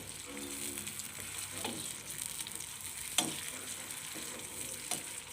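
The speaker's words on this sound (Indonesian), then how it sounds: "Nah, kita oseng-oseng seperti ini atau kita aduk-aduk." Tempeh sizzles steadily as it is stir-fried in a pan, with a few louder scraping stirs of the utensil against the pan, and no talking.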